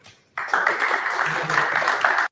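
An audience breaks into a short burst of clapping and applause that starts abruptly, holds steady for about two seconds, then cuts off.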